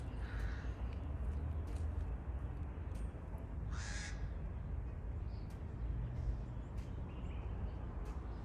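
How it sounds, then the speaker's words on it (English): A bird calls outdoors in Africa, giving a few short, moderately distant cries over a steady background hiss. "That bird up on this little thing is what's making that noise"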